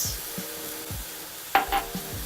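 Tamari sprinkled into a hot pan of vegetable stir-fried rice, giving soft sizzling with scraping stirs and a brief louder hiss near the end, close up and without talk.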